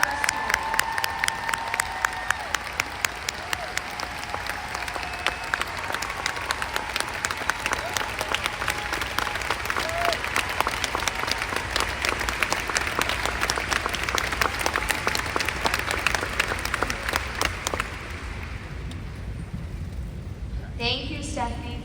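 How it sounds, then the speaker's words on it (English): Sustained audience applause fills a foundation's annual update event, dense and steady for about eighteen seconds with scattered cheers, then thinning out as a voice returns at the end. "I think she deserves a huge round of applause for her"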